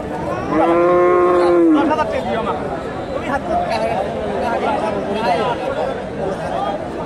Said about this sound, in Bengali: এখানে একটা দেখেন ফ্রিজিয়ান ষাঁড়